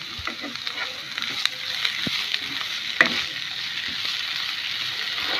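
Chopped onion, chillies and tomato frying in a pan for Goan vegetable cutlets, a steady close sizzle with scattered pops and spatters and occasional stirring clinks.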